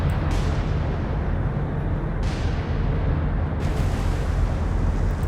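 Naval gunfire in the War on the Sea game, heard as a continuous heavy rumbling roar with repeated muffled booms layered over it. No voices.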